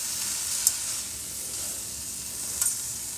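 Shrimp cauliflower rice with egg and mushrooms tossed in a hot pan, a steady close sizzle broken by a couple of sharp spatula scrapes, with no talking.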